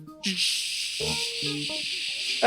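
A person vocally imitates a pressure cooker whistle, producing a sustained loud hissing blast that runs the whole length, with a few brief voiced sounds underneath.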